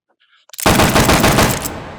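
Single action army revolver shots in the H3VR virtual reality shooter, a sudden loud burst of rapid overlapping gunfire after a moment of near silence, close and booming with a ringing tail.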